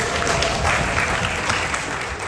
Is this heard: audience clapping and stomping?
yes